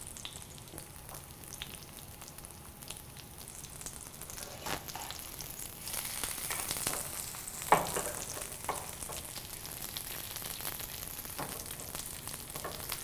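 Turkey schnitzel sizzles in shallow oil in a pan, a steady close crackle with occasional louder pops and spits that swell briefly as the cutlet is turned, with no voices over it.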